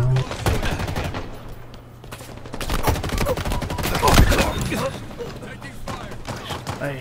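Rapid bursts of pistol gunfire in a video game PvP match, several close shots in quick succession with a sharp cluster near the middle, over constant game noise and background mechanisms.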